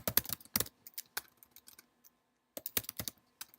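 Someone types a command on a computer keyboard, with quick close clacking bursts of keys, a brief pause, then another short run of strokes.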